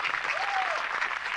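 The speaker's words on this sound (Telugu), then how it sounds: "ముందుగా గట్టిగా చప్పట్లు" A studio audience at a Telugu TV serial's singing segment claps loudly and steadily for a composer, a dense wash of applause that fills the whole moment.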